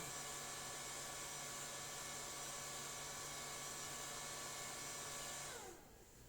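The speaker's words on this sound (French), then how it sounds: "on va voir le séchage qui va se mettre en route pour 5 minutes" A HumminGuru ultrasonic record cleaner runs its drying fan, a steady whirring hum with a fine high whine, held close and even before winding down near the end; no voices.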